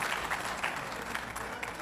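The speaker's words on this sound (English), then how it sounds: "Let's give him another round of applause for that" An audience at a DeKalb community luncheon applauding, a steady wash of many hands clapping in a room with no pauses.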